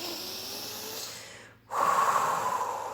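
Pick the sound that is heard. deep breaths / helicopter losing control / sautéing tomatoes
deep breaths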